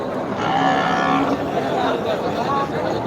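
Cattle at a border-area cattle market low and moo amid continuous crowd noise, with people chattering and calling throughout.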